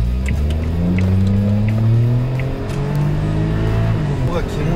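A Suzuki Jimny JB64 on Geolandar AT4 tyres drives along with a steady engine drone and rising, shifting engine tones as it accelerates, the tyre noise kept low beneath the motor.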